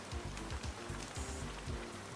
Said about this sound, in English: I hope the rain isn't too loud.